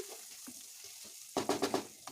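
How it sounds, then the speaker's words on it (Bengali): Onions sizzle as they fry in a pan for Basanti pulao, a soft crackle that bursts louder with a few stirring scrapes near the end, close and with no talk. "পেঁয়াজটা আমাদের লাল লাল ভাজা হয়ে গেছে"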